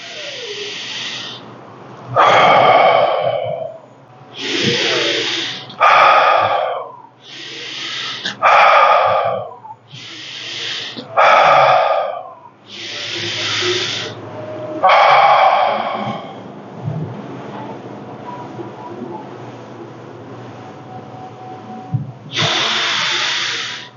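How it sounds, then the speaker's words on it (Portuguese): Deep diaphragmatic breathing in a calm guided exercise, loud close breaths in and out through the mouth, about eight long strokes in a slow even rhythm, then a quieter pause and one more breath. "faço diafragmática, o mais profundo no abdômen, sobe para o peito e aí eu expiro"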